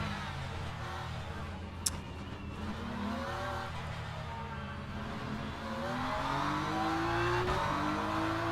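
LMP3 race car engines in Le Mans Ultimate drone and climb through gears, several cars revving at once with rising pitch sweeps, one sharp click, and a dense, continuous mechanical roar.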